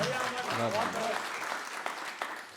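An audience at a Hindi poetry gathering (kavi sammelan) in Shimla breaks into sustained applause that rises beneath a speaking voice and continues after the talk fades.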